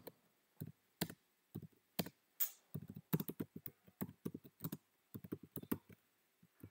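Computer keyboard being typed on for an SQL truncate command, with quick irregular bursts of clacking keys, close and crisp, pausing briefly between runs of keystrokes; no voices.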